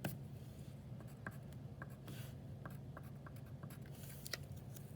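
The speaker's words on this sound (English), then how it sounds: "Let me write that." A pen scratches across paper while working out equations, a steady run of small strokes and taps close to the microphone, faint and unbroken by talk.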